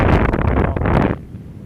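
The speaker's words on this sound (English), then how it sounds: "As the wind's coming down this way" Strong wind rushes and buffets loudly past a paraglider in flight over Chamonix, a dense roaring gust that cuts off abruptly near the end, leaving a quieter hiss.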